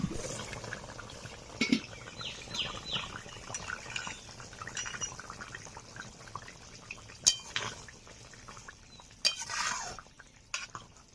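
Metal utensils clink and scrape against a pan, with a few sharper clatters and soft sizzling as ground fried spices are tipped into a fish curry and stirred.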